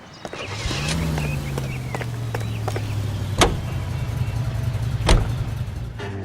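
Car driving in L.A. Noire, a 1940s-era vehicle engine starting up and revving into a steady, low hum as it pulls away, with a couple of sharp knocks or bumps along the way.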